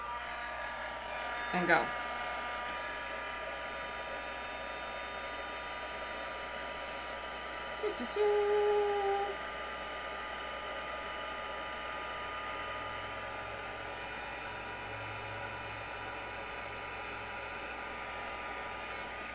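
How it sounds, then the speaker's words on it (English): A handheld craft heat gun runs with a steady airy whoosh and hum, close by, held on foam over suede and gold feather material. A short spoken phrase and a couple of brief clicks or knocks occur partway through. "turn on my heat gun"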